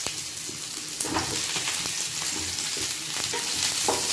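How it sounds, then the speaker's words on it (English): Drumsticks sautéed in a masala gravy in a pan, a continuous close sizzle broken by repeated scraping and stirring strokes, no talking. "Just saute it for 2-3 minutes."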